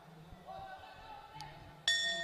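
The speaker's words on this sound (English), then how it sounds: "And that is the bell to end round 4." A sharp ringing bell strikes once to end a round at a women's Muay Thai fight, bright and sustained over a quiet arena murmur.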